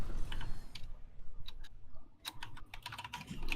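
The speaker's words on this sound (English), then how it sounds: "I hear the keyboard click." Computer keyboard keys clicking in irregular bursts of typing during an online Chair League match broadcast, close and fairly quiet over a low background hum, with no speech.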